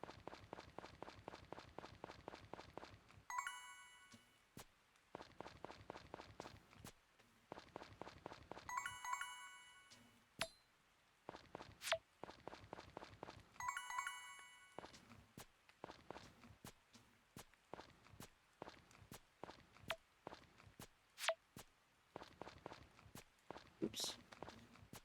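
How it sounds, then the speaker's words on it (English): Footsteps patter steadily through rain in a farm sim video game, repeated soft steps over a constant wet hiss, interrupted by bright chime-like game tones at intervals across the stretch. "But how's the footsteps sound now?"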